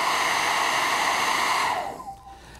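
A hair dryer blowing steady and loud to heat and soften melted candle wax on furniture, then switched off, its whine winding down and fading over the last half second.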